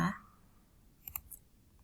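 A computer mouse clicks faintly while AutoCAD is in use: a quick cluster of two or three light clicks, followed by one softer click, in an otherwise quiet room.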